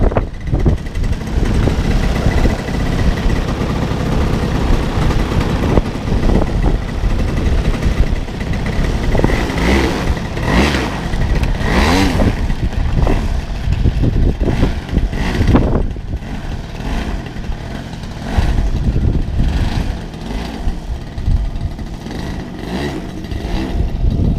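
Modified Hobby-King R3 Gee Bee RC model plane flying, its engine buzzing continuously and shifting in pitch as it passes and turns, loud and steady throughout with no talking.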